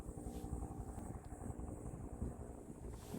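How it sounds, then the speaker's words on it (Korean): A helicopter flies over a rocky mountain ridge near Bukhansan, its rotor thudding as a steady, distant drone that fills the air with no talking. "어디서 사고가 났는지 헬기 소리가 막 들리네요"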